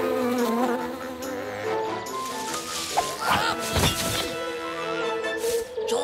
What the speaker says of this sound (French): Faut prendre un vieux moustique.